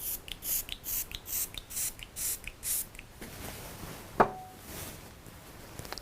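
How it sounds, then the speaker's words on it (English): Daily Defense Moisture Mist facial spray is pumped in a quick run of about eight short hissing bursts at an even rhythm during a facial, close and soft, followed by quiet handling noises. "I just spray the Daily Defense Moisture Mist to the side so the client is pre-warmed"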